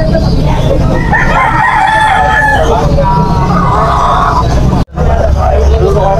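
A two-year-old stag rooster crows at a busy poultry market in Malabon, loud and close over the constant hubbub of chatter and surrounding crowd noise.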